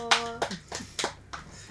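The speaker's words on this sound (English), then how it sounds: "Round of applause." Hand clapping in a talk-show setting: a few sharp, separate claps spaced out over under two seconds, close and fairly loud, briefly overlapping a voice.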